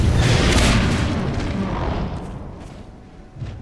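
A rocket explodes in Half-Life, a loud, close boom with a deep rumbling tail that slowly fades, followed by a small thump near the end.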